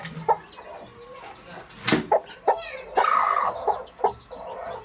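Brooding hens cluck in short, close bursts, with several louder squawks and a longer, rougher call in the middle, over a quiet background.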